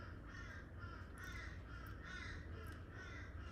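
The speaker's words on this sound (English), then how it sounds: "What bird is that? It's a crow." A crow caws repeatedly in a steady rhythm of about five hoarse calls, fairly faint and set against a low background hum, with no one talking.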